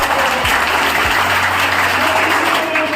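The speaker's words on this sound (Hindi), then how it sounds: "अपने लिए तालियां इतनी धीरे धीरे बजाई" Loud, continuous applause from a crowd, dense clapping sustained evenly for the whole stretch.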